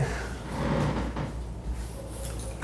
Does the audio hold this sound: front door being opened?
yes